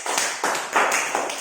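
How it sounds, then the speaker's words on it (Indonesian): A class of students clap their hands together in a schoolroom, a dense burst of applause rising in several surging waves across a short stretch, close and fairly loud with no talking. "Tepuk tangan untuk kita semua."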